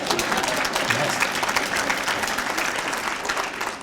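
A lecture audience at the NALMS International Symposium in Burlington, Vermont breaks into steady, dense applause, many hands clapping evenly throughout with no talk.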